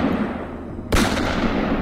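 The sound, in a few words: gunshots fired several times, audio drama sound effect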